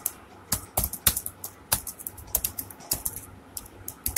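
Someone types on a computer keyboard while building a WordPress website, producing crisp, close key clicks in an irregular run with several sharper taps standing out and brief pauses between bursts.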